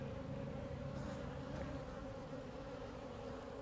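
Honey bees buzzing at an open hive while a brood frame is worked during a colony split, a continuous steady drone that stays close and even throughout, with no voices.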